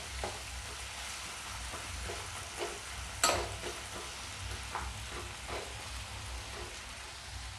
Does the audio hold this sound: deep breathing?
no